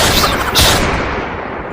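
A loud gunshot sound effect in a Gujarati village comedy skit bursts as a sharp, booming blast with a rough, noisy tail that fades over about a second.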